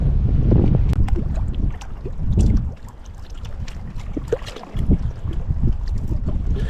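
Gusty wind buffets the microphone in rough, uneven rushes beside Mason Reservoir in Colorado while fishing from the bank.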